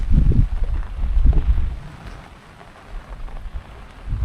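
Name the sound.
rain falling, heard from a village bridge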